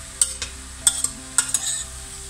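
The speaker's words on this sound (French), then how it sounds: "vous mélangez régulièrement pour pas que ça attache" Vegetables for a honey-glazed pan medley sizzle softly in a hot pan while being stirred, with a few sharp scraping clicks of a utensil recurring every half second or so over a steady low hiss.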